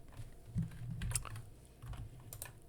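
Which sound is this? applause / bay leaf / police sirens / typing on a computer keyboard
typing on a computer keyboard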